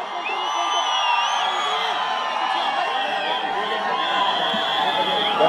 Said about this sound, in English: Big round of applause for the style icon.